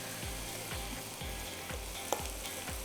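Chicken thigh pieces cooking flat in a hot pan, with an even, close frying sizzle and a repeated low thump about twice a second.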